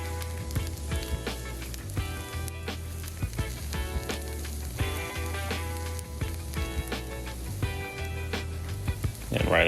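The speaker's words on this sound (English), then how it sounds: "Now I'm going to go ahead and start getting the onions and mushrooms on here. So we're going to add a little bit of oil." Onions frying in oil on a Char-Griller Flat Iron griddle give a steady, close sizzle with scattered crackles and pops, running continuously over a background of music.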